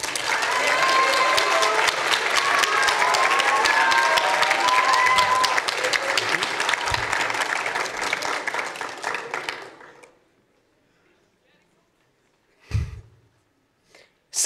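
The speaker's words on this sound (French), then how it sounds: "Applaudissez très fort, s'il vous plaît, Alexandre Gaulier." Loud, dense applause from an audience at a high-school eloquence contest in Montreuil fills about ten seconds, then fades into near silence broken by a couple of faint knocks.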